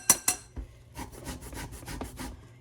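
Washed organic orange rubbed against a zester, a few soft scraping strokes close by, preceded by two sharp taps, fairly quiet with no voices.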